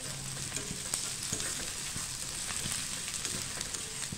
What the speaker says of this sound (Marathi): आता आपला कांदा पण लालसर भाजत आलेला आहे.